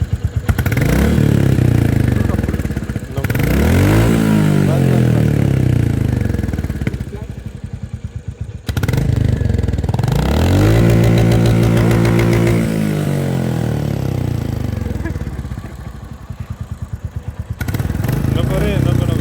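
A Royal Enfield Bullet 350 motorcycle engine revs hard and close in several rising, falling bursts, with rough idling thump between throttle blips.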